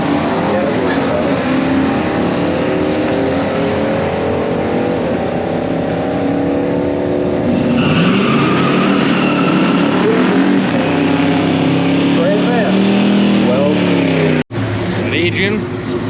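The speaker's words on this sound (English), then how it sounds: "going against Tyler Messman with his 1972 Pontiac Trans Am, which to me is my favorite year Trans Am" A 700-horsepower 1972 Pontiac Trans Am at a pure stock drag race roars loudly and continuously, its engine revving and surging up in pitch partway through, with crowd and announcer noise mixed in.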